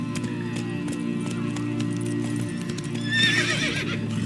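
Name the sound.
horse Roach galloping in video game The Witcher 3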